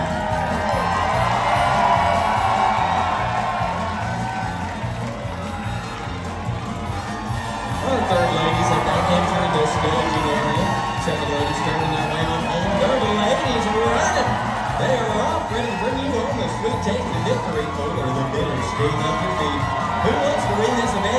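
Arena crowd cheering continuously at the Dolly Parton Stampede horse riding dinner show in Pigeon Forge, Tennessee, a loud sustained roar of many voices with shouts and whoops, under an announcer's amplified voice.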